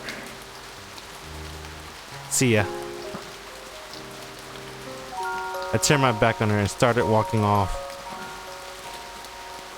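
Steady rain from the visual novel One pours onto wet ground as a constant hiss under the whole scene, with music tones and someone speaking over it.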